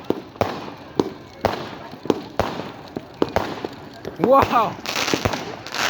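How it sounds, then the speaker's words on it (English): Bonfire night fireworks explode outdoors in a rapid series of loud bangs roughly every half second, ending in a crackling burst, while a person exclaims briefly. "Craziest fireworks I've ever crossed to and witnessed."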